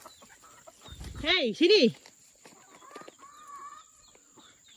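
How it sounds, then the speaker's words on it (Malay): Chickens on a rural house plot in a vegetable-harvest setting cluck and squawk in a couple of loud close bursts, followed by softer calls, with a person speaking briefly. "Ayam mengikut sampai sini guys."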